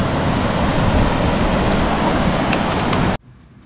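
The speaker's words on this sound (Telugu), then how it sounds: "ఇలా వాటర్ స్ట్రీమ్స్ వస్తాయి." Glacier meltwater streams flow near Nichnai camp on the Kashmir Great Lakes trek, a loud, steady rushing wash that runs without pause and then cuts off abruptly to near silence.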